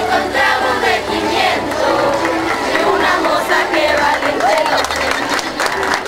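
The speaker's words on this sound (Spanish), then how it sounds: "Fuerte el aplauso." A large outdoor crowd applauds and cheers at a Revolution Day parade in Ixmiquilpan, Hidalgo, Mexico, a steady loud wash of clapping and shouts filling the whole stretch.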